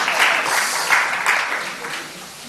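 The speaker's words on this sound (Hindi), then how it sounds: "ताली बजाओ ना।" Audience clapping at an evening spiritual class in London, a dense burst of applause that holds steady and then slowly thins and fades over a couple of seconds.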